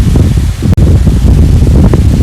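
Strong wind roars steadily outdoors as rain arrives, a dense broadband rush close to the microphone with buffeting gusts and a brief dropout, no voices.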